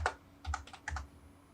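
Keys tapped on a computer keyboard during drafting work, a few quick clicks in short bursts with a slightly heavier press like the Enter key, close and clear with no talking.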